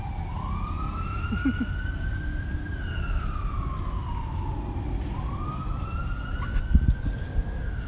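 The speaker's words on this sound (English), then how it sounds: "siren." An emergency siren wails in slow rising and falling sweeps, carried over a low rumble of traffic noise.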